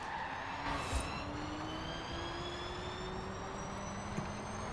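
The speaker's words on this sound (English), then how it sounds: "It sounds very futuristic and spacey. Like an actual, like, spaceship." Futuristic, spaceship-like whine of a Rimac C_Two electric hypercar in Forza Horizon 4, a steady rising electric tone with thin high harmonics over road and wind noise, continuous and fairly loud, with a brief sharper burst near the start.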